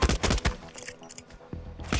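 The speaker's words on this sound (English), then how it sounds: "shoot him up a little bit" Gunfire in the stealth game Hitman, a quick volley of sharp loud shots in close succession at the start, then scattered clattering impacts and a couple more isolated shots, heard up close without talk.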